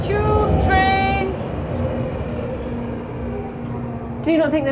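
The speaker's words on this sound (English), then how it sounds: "Oh, there's a train below me." A London Underground tube train rumbles past below at Tottenham Court Road, a loud rising whine and rolling clatter with squealing tones near the start and end.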